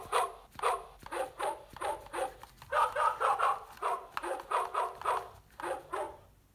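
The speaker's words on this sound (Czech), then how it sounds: "Tak moc je zlý ten pes." An angry dog barks repeatedly in a steady, loud, close run of about a dozen barks with short gaps, with no other sound.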